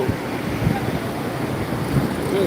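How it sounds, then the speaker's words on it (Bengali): Large sea waves at Cox's Bazar beach at night, a loud continuous roar of surf mixed with wind buffeting the microphone. "বিরাট ঢেউ"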